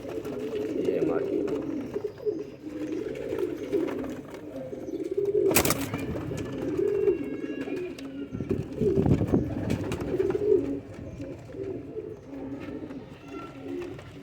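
Pigeons cooing in hot sunshine, with a steady low murmur of calls throughout, a brief burst of flapping or wind noise midway, and people talking underneath.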